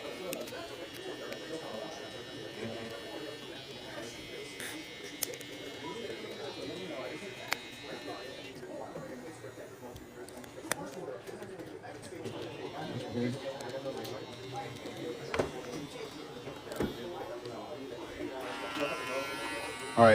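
Electric hair trimmer buzzing steadily through a barbershop lineup on a number 3 buzzcut with a mid fade, close and continuous, with people talking and background chatter throughout.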